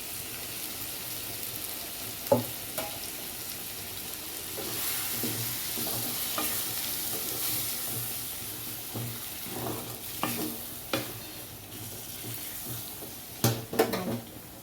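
Ground tomatoes sizzle in a pan for a yam curry and are stirred with a spoon. A soft, continuous frying hiss runs under irregular scrapes and clinks against the pot, which grow busier toward the end.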